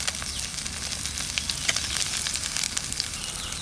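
Cumin seeds sizzle in hot oil in a pan beside river crab from the Sundarbans, a steady close crackling fry with scattered pops and no talking.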